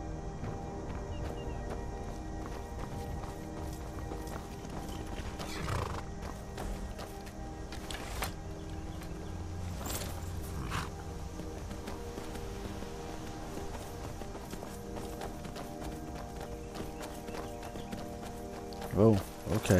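Horse hooves clip-clopping in the video game Skyrim, a steady background patter with a brief whinny near the end, heard under game music and tonal ambience.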